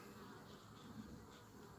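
A soft, steady buzz of bees hums continuously, faint and distant, with no voices over it.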